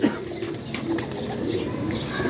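Pigeons in a loft of fancy breeding birds coo steadily under a constant background hum, soft bird calls and faint rustling filling the moment.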